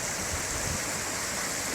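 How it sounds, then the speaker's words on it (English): Freshwater creek at Mill Creek in the Big Sur wilderness of the Santa Lucia Mountains, flowing with a steady, even rush of water and no talking. "there's a freshwater creek that flows out right here."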